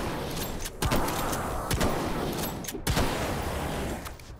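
Several sharp gunshots from a Half-Life video game, spaced irregularly over steady in-game background noise, loud and close with brief decaying tails.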